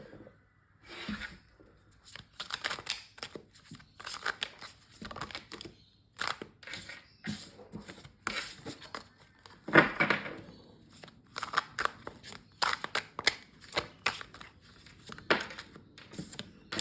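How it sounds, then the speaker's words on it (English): Tarot cards being shuffled by hand in a quiet room, a run of dense papery riffles and slaps in irregular bursts that come close and fairly loud, with no talking over them. "as I was shuffling the cards"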